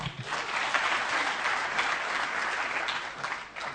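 A crowd claps for Solomon Kuria at an event, sustained thick applause that holds level throughout and tapers slightly at the very end.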